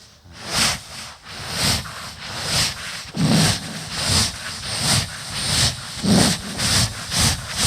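A voice imitates a steam train, with rhythmic breathy hissing puffs repeating steadily, loud and close.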